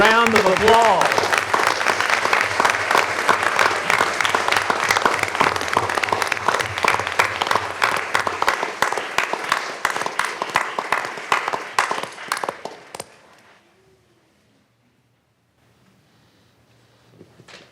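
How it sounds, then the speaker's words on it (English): A city council meeting audience applauds an 8-and-under girls softball all-star team for winning a state championship, steady clapping that carries on for about twelve seconds before trailing off into near silence. "Let's give them a big round of applause."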